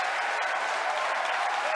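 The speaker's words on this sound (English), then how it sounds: "if you can hear me over the cheering" A crowd cheers and applauds at the Falcon Heavy side booster separation during the Arabsat 6A launch, a dense, even roar of clapping and cheering lasting the full moment.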